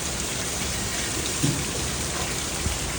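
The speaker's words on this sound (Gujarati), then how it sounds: "બહુ વરસાદ આવે છે ભાઈ, ખતરનાક." Heavy rain pours down in a dense, constant hiss, drumming hard on surfaces during a windstorm, with a couple of faint low thuds underneath.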